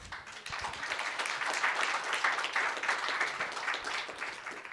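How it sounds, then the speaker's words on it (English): Applause rises from the audience at a cannabis industry and policy summit as panelists are thanked, a full, continuous patter of many hands swelling in and holding for a few seconds. "Another round of applause for our panelists."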